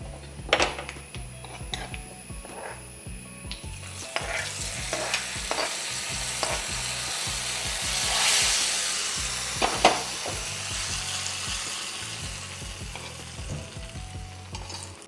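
Onions sizzle steadily in a hot pan for a jackfruit seed and mango curry, with repeated scraping and clattering strokes of a spoon stirring them, close and continuous.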